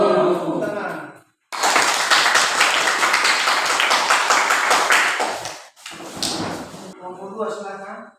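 Classroom of students clapping after a group presentation, a loud burst of close applause lasting several seconds that stops abruptly, with voices talking before and after it.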